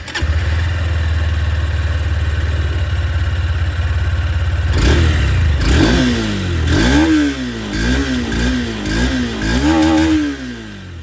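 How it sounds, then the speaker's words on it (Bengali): A Honda NX200 motorcycle with its stock exhaust idles in a steady low throb, then is revved repeatedly, each blip rising and falling in pitch, loud and close with no talking. "চলুন তবে এর যে এক্সস্ট সাউন্ড সেটাও আমি আপনাদেরকে শুনে দিয়ে স্টার্ট করি উইথ দিস NX 200"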